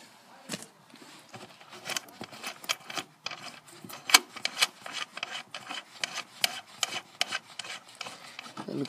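A metal nut being undone by hand on a found object, heard as close, dry scraping and rasping clicks in quick irregular bursts with no talking over them.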